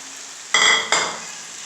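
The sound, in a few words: stirring fried chicken into sauce in a pan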